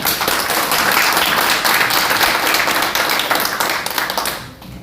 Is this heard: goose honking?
no